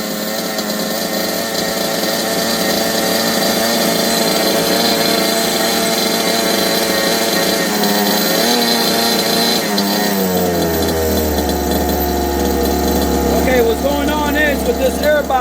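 An FG 510 2WD RC car's gas engine with an upgraded airbox runs loud and close with a high, buzzing, chainsaw-like whine that rises and wavers in pitch, someone talking over it.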